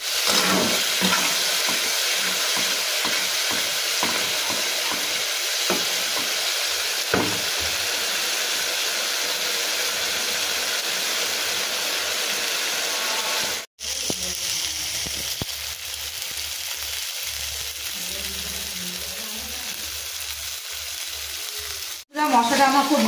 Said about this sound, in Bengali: এবার মশলাটা আমি এভাবে ভালো খানিকক্ষণ কষবো।